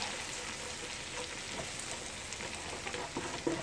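Cabbage tossed in a hot frying pan with country sausage, crackling and sizzling steadily with soft stirring scrapes and a sharper tap near the end, no voices.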